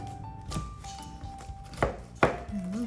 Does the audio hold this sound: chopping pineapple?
yes